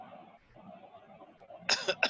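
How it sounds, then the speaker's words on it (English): A person coughs twice in quick succession near the end, sharp and close, following a stretch of faint, muffled voices in the background. "what am I getting this cough from now?"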